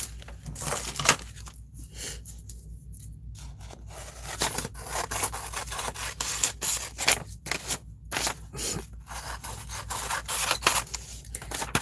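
Scissors snip through paper for a collage, a quiet series of irregular crisp cuts mixed with light rustling and handling of the sheets.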